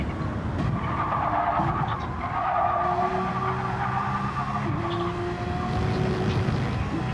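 Race car in a sim racing video game at Watkins Glen, engine droning steadily as the front tires squeal under strain with understeer, a continuous loud run with pitch shifts.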